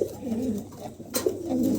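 A male pigeon at a pigeon showroom coos in repeated low, rolling phrases, close and clear with no voices over it.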